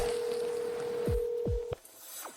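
Telephone dialing tones: a steady tone followed by a few quick descending beeps, close and clear with no talk.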